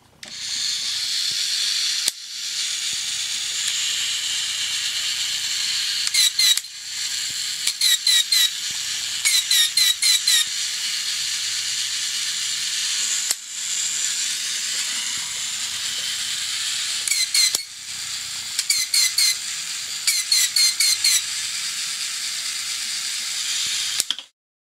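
A refurbished SpotBot toy robot by Tomy runs with a steady high mechanical whir and hiss, broken by repeated bursts of rapid clicking and ratcheting from its gears at regular intervals.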